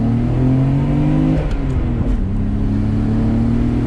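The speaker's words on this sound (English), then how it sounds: "Hearing the sounds of the engine, that straight six, such an iconic car, iconic engine" A 1994 Nissan Skyline GT-R's straight-six engine hums steadily up close, its pitch shifting and rising briefly as it revs, with a continuous low drone throughout.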